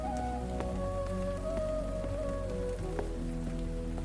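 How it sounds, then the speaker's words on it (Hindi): Heavy rain pours steadily through the night, a dense, constant wash of falling water that stays even from start to finish with no voices. "बहुत तेज बारिश है"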